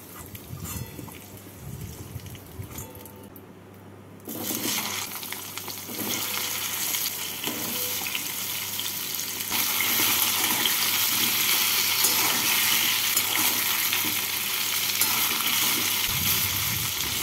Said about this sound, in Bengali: গাঁটি কচুগুলোকেও এইভাবে একটু লাল লাল করে ভেজে নেব